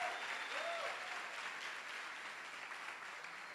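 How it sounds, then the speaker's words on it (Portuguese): A church congregation applauds at an evening service of an international congress, a steady, dense wash of clapping that holds at an even level from start to finish, with no distinct voices rising above it. "Vamos aplaudir ali ao Senhor."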